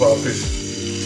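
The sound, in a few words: fish frying in oil on a tawa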